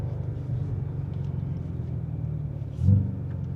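A 2026 BMW M5 engine rumbles steadily from inside the cabin while driving, a deep continuous drone with a brief swell in loudness near the end.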